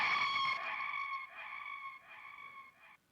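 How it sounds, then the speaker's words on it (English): A scream sound effect closes a dark Philly drill beat, a high, strained tonal shriek that stutters through several short repeated bursts before cutting to silence. "I added in this scream effect at the end here"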